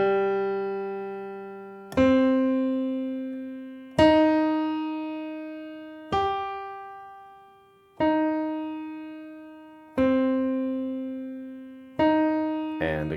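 Slow piano notes from a finger-crossing exercise, the thumb passing under to G, struck one at a time about every two seconds, each ringing out and decaying before the next, clear and close with no talk.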